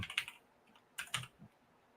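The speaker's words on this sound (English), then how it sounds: "we'll just start typing" Typing on a computer keyboard while coding software, heard as a few short clustered bursts of clicky keystrokes separated by pauses, close and fairly quiet, with no talking.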